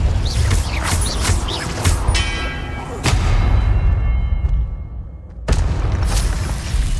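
Confringo fire-blast spell explosions during combat in Hogwarts Legacy, heavy booming bursts landing one after another amid loud, dense game battle noise.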